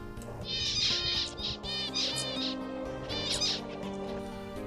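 Wild finches flock in and out of a tree at a staging point near water, giving repeated bursts of high, warbling chirps over a quiet background.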